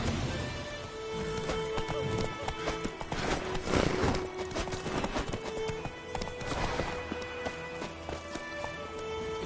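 Horse hooves clip-clopping at a quick trotting pace in The Witcher 3, a close, steady rhythmic beat under a busy game soundscape with brief voices and a whinny.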